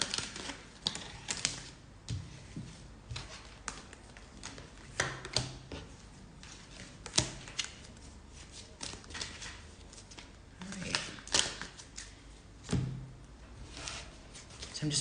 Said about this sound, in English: So I'm just pulling the cards that we need for each of the decks here.